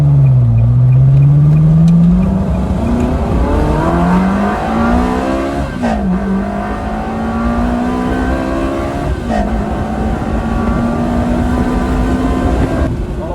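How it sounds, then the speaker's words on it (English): A Ferrari 360 engine revs hard as the car accelerates on the road. The pitch climbs steadily through several gear changes, loud and close, with no one talking. "This thing is fast."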